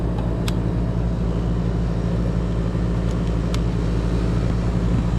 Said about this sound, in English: that must be my fan